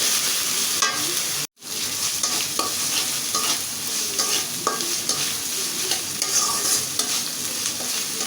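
Close, steady frying sizzle of ginger, garlic and onion paste with prawns, with repeated stirring and scraping in a pan, briefly cut to silence early on before the sizzle resumes.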